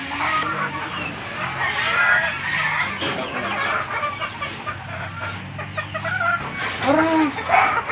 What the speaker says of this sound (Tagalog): Ay, manok lang yun eh.